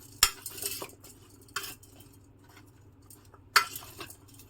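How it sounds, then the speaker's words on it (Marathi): A spoon stirs raw mango pieces with salt and turmeric in a bowl for traditional pickle, giving a few sharp metallic clinks and scrapes spaced apart against a quiet background. "हळद घालून घ्यायची आहे आणि चमच्याने हे वर खाली करून घ्यायचं"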